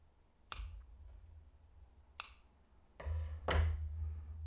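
Yarn pieces from a small crocheted flower being snipped with scissors, two sharp close clicks followed by a third, slightly rougher cut with some handling noise.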